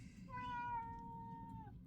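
A single drawn-out cat meow on an off-grid homestead, close and clear, sliding slowly downward over about a second and a half against a low background rumble.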